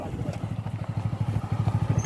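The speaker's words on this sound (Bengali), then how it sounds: "আর এই বাইক এখন তোলা হচ্ছে আমার ফেরিতে." Motorcycle engine idling while the bike is loaded onto a river ferry, a steady rapid low thumping pulse, close and fairly loud.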